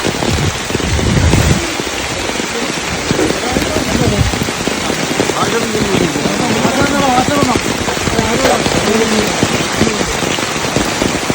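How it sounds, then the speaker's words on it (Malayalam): Heavy rain pours down in a dense, constant hiss and patter, with people talking under the downpour throughout, while a cage for a leopard is set up in a forest. "ഭയങ്കര മഴ കേട്ടോ ഭയങ്കര മഴ എന്ന് പറഞ്ഞാൽ ഭയങ്കര മഴ കോരിച്ചൊരിയുന്ന മഴയത്ത്"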